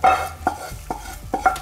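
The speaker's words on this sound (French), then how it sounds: "Après, on va les mélanger." Oxtail pieces are stirred into meat in a pot, with four or five quick, close scraping strokes against a faint sizzle and no voices.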